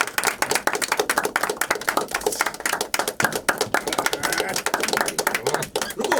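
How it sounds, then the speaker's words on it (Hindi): Applause from a small group at a cast gathering for a Hindi web series, a dense burst of sharp hand claps going on steadily and close by. "तालियां।"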